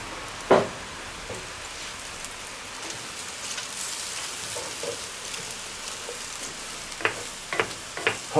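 Pork fillet and pointed cabbage braise in oil in a pot, giving a steady soft sizzle and crackle with a few sharper pops and spatters, heard close and alone with no talk.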